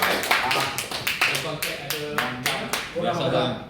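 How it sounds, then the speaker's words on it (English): A small group claps in a room, with distinct, uneven claps rather than a dense roar. Voices talk over and between the claps throughout. "big round of applause"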